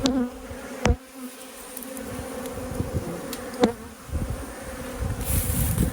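Honey bees buzz at a hive entrance during a fight over robbing, a dense insect drone with a few sharp close passes as individual bees zip by the ear, rising louder toward the end.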